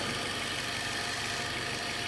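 Nissan Altima engine idling with a slight surge, a steady close broadband hum and rumble with no breaks.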